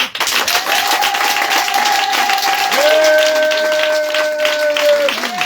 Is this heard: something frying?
no